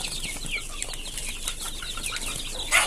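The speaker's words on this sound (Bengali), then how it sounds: "দেখতে পারতেছেন মুরগির বাচ্চাগুলো মার্শাল্লাহ সুন্দর ঝরঝরা আছে" Desi (native) chicks on a farm under lights: high, thin peeps and chirps overlap continuously at close range, with a brief louder burst of chirping near the end.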